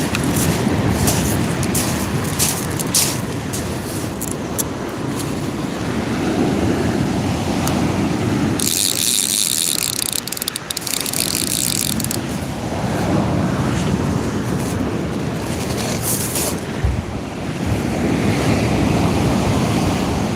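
Steady wind and sea waves roar around a kayak during sea fishing, a loud continuous wash with gusty surges and a few brief bright rattles midway, with no voices.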